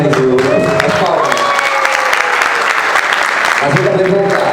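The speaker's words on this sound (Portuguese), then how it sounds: "Ainda temos as palmas." Applause and crowd noise fill a workshop room, loud and steady throughout, with a voice talking over the clapping at the start and again near the end.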